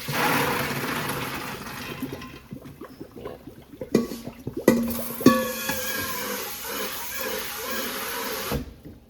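Tap water rushing over soaked red beans in a strainer, a loud steady gush that eases off into scattered clacks and knocks of beans and cookware nearby.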